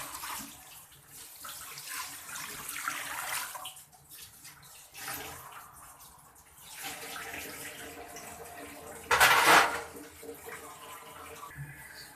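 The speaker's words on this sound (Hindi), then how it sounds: "अब इसमें पानी शामिल कर रही हूँ।" Water pours into a pot holding bong (beef shank) with dried red chillies and salt for yakhni, a soft continuous splashing and trickling with a louder gushing burst near the end, no talk.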